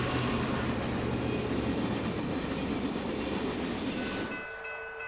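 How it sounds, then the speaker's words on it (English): Canadian Pacific 2816 Empress steam locomotive and train passing at track speed, a loud rumbling roar with clattering wheels that holds strong then drops away sharply near the end. "The train thunders down the high iron through Benson at track speed."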